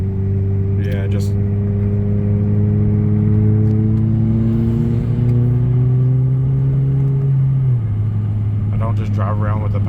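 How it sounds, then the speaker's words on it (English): A 2017 Lexus IS 200t accelerates hard with paddle-shifted gear changes, its engine tone rising steadily then dropping at a shift, loud and close inside the cabin, with someone talking briefly at the start and end. "I'll do a little pull right now and I'll use the paddle shifters"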